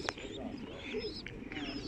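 A pigeon coos softly at an outdoor market in Garwolin, its low, throaty calls rolling on under faint crowd murmur and a brief sharp tap at the start.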